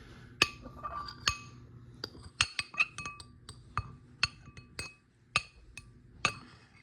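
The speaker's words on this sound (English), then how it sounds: "You hear me clanking against the bowl to cut this worm in half" Metal clanks and clinks against a bowl while a worm is cut in half for feeding an axolotl: a string of sharp, close, irregular taps and chinks with quiet gaps between them.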